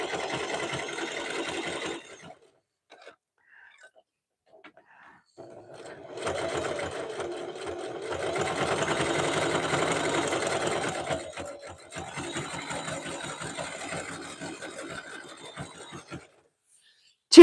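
A sewing machine stitches a fabric strip rug, running in bursts of steady whirring with short pauses between seams, close and fairly loud.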